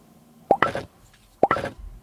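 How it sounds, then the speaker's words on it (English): Two short, sharp impacts about a second apart from a gun hitting the edge of a box in a VR shooter, each a bright crack followed by a brief ringing material rattle, close and alone. "So what I did was shoot the edge of the box, and you can see that it still detects the correct sound."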